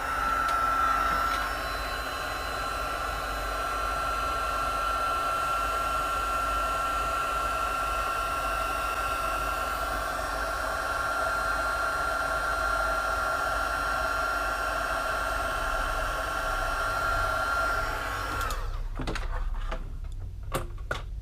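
A heat gun blows steadily and close while embossing powder is melted on a handmade card, a constant whooshing whir lasting many seconds before it switches off with a few sharp clicks.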